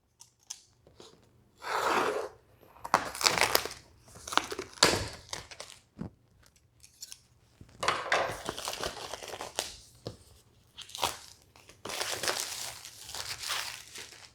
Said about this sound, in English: Okay, so let's unbox it.